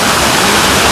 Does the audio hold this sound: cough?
no